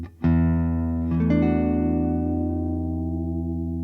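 An electric Squier guitar plays a sustained chord with notes bending and swelling, imitating a country pedal steel, giving a smooth sliding feel that rings out and slowly fades.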